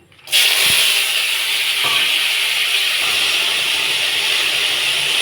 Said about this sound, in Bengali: এই কলা কোড়া ছোলা আর আলুটা আমি ভেজে নেব